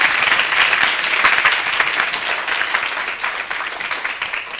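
Loud, sustained applause from an audience at a children's Wednesday program after a recitation, many hands clapping densely and continuously, fading slightly toward the end.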